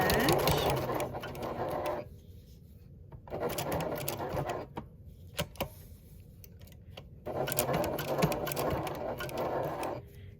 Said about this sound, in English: So I'm just sewing along the edge.